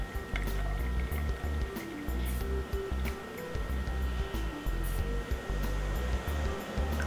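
Water poured into a container for an Arduino water level sensor test, a steady filling gurgle close by with a constant hum underneath and brief pauses, no speech.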